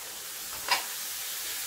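Boiled black chickpeas stirred into masala frying in a pan give a soft, constant sizzling hiss, with one brief scrape of the spoon partway through; quiet and close.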